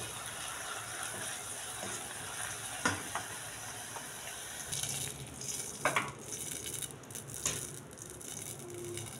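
Garlic goes into browned onions frying in a pan, giving a soft continuous sizzle with scraping and rattling stirs that peak in a few sharp clatters, fairly quiet and with no talking.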